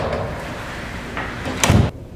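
A room door swung shut with a single dull thump near the end, after a few seconds of quiet indoor room tone.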